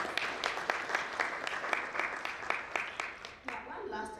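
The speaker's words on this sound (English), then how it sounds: "Let's give her another round of applause" Audience clapping at the launch of national clinical guidelines for common mental disorders, a moderate run of distinct claps that thins out and stops partway through, followed by quieter room sound and a voice.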